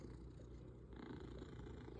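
A cat purring softly and steadily at close range, a low rumbling drone that continues for about two seconds with no talking over it.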